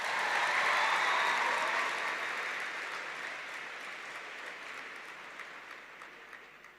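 Sustained clapping from a ceremony audience at a university welcome event, steady and moderately distant, slowly tapering off.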